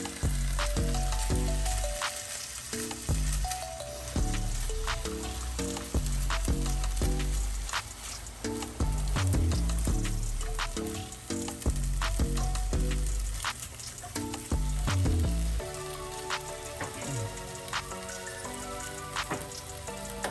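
Gluten-free sausage gravy with cheddar bacon seasoning sizzles loudly in a pan while being stirred, a dense steady frying crackle with intermittent scraping clicks of the utensil throughout.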